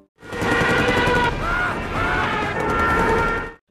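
Loud, continuous machine gun fire in rapid bursts in a war film, dense and sustained for a few seconds, with a crashing, battle-like roar.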